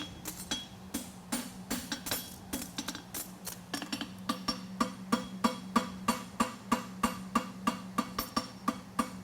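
Steady hammer strikes on a horseshoe over an anvil horn ring out one after another, sharp and clanging, speeding into a quick regular rhythm over a low background hum.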